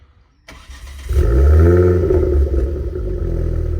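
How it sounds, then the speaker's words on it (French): A Ford Focus RS in Stage 2 tune cranks and its five-cylinder engine fires, settling into a loud, throaty idle that rumbles on close by. "Donc le mythique bruit du 5 cylindres, du coup."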